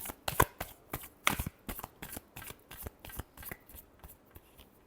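Tarot cards are shuffled by hand in a quick series of crisp riffling bursts and soft slaps, close and fairly quiet, with no talking.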